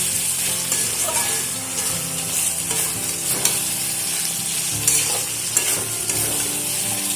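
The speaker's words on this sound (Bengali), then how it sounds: "চিকেনটা কিন্তু খুব ভালোভাবে কষা হয়ে গেছে মশলা থেকে তেল ছাড়তে শুরু করেছে" Chicken cooking down in spiced oil, a dense continuous sizzle with scraping, rhythmic stirring of a spoon through the pan, loud and close with no talking.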